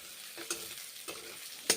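Chopped onions fry in a pan for a Bengali rohu fish curry with ground cumin, a steady soft sizzle broken by three sharp scrapes of a stirring spoon.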